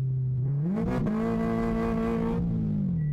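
A supercharged FT86 drift car engine roars loudly and close throughout, jumping sharply in revs as the clutch is kicked, holding high, then easing back down.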